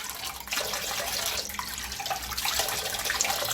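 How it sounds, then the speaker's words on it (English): Fresh water splashing onto the face and closed eyes over a running tap, a continuous close splatter with repeated wet slaps rising and falling several times. "close your eyes and splash fresh water on your eyes"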